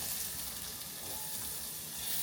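Chopped carrots sizzling in hot oil with cumin and asafoetida while tempering for savoury oats, a steady close hiss of frying with no talking.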